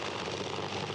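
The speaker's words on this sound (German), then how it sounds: "So, Black Gold aus Großbritannien mit einem Allison V12 Motor." Black Gold, a British tractor-pulling machine with an Allison V12 engine, roaring steadily at a 1995 European championship pull in Hörby, a dense loud continuous engine blare filling the whole moment without pause.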